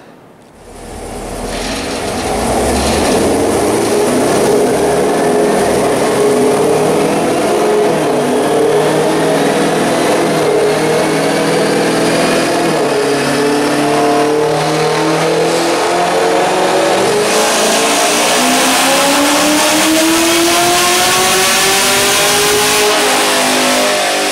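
A loud, sustained engine roar from an LT1 car with American Racing headers, cold air intake, ported throttle body and bolt-on mods on pump gas, climbing steadily in pitch through hard acceleration at a drag track.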